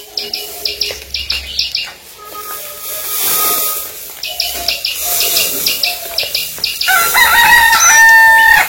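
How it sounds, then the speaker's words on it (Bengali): A rooster crows on a foggy winter village morning: two loud, close cock-a-doodle-doo calls with a pause between them, and smaller birds chirp in the background. "মোরগে ডাক দেওয়া হলাইছে"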